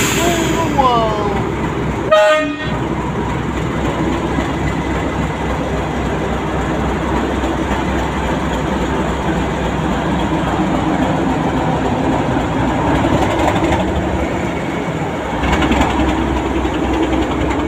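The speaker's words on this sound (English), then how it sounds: "the great big 60-year-old diesel locomotive" A 60-year-old diesel locomotive on the Chinnor and Princes Risborough heritage railway rumbles loudly and steadily close by, with a brief horn toot near the start and a voice talking over the engine drone.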